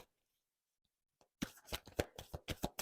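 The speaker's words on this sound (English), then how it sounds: "let's go ahead and get the last card out here in the staff" Tarot cards handled and drawn from a deck, a close, quiet flurry of quick crisp card snaps and shuffling flicks after a brief silence.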